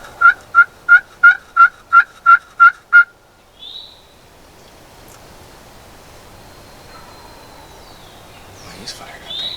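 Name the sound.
wild turkey gobbling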